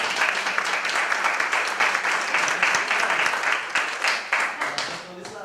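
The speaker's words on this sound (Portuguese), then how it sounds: "eu queria que vocês dessem uma salva de palmas, por favor" Dense applause from an audience at a talk on online reputation, a steady wash of many hands clapping for the whole stretch before it thins slightly at the end.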